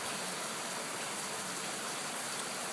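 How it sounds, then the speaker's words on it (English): Steady rain falls at a Colorado River fishing camp, a dense, even hiss that holds unbroken at a constant level throughout, with no talk. "as the rain falls"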